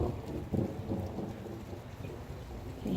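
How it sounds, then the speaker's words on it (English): Steady rain falling with low rumbles of thunder during a storm near a backyard garden, a continuous outdoor wash of sound with no talking. "All right, it's starting to rain."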